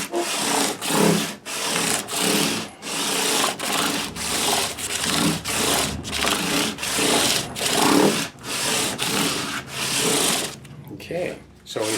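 600 grit abrasive is rubbed back and forth over guitar frets during a light fret dress, making a rhythmic, close scratchy stroking of about one pass per second that stays loud and even throughout.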